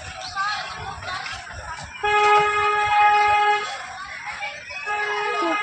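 A toy train at an eco park sounds a sustained, tonal horn, heard at moderate distance over background chatter and crowd noise, with a second shorter toot near the end.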